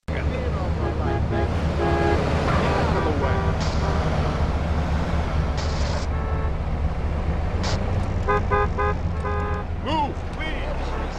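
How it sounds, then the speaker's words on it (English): Traffic car horns in GTA San Andreas play at a normal frame rate, with several separate beeps and honks at irregular intervals over steady road noise, mixed with game voices. "this is how traffic beeps sound at normal frame rates"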